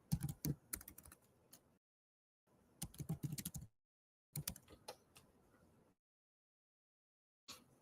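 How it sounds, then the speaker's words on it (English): Quick bursts of clattering keystrokes on a computer keyboard come in short clusters of a second or so, separated by silent pauses, close and fairly quiet. "if I type in this"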